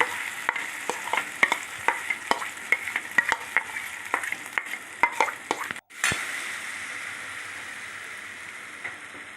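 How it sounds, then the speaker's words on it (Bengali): Whisked curd poured into a hot karai sizzles steadily, with repeated sharp clinks and scrapes of a utensil over the first six seconds, then a brief gap and a continuous frying hiss alone. "দই ফাটানো দইটা সব ঢেলে দিলাম"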